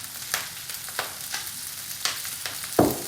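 Garlic frying in olive oil in a pan, a soft crackling sizzle broken by a few sharper spits and clatters and one louder burst near the end.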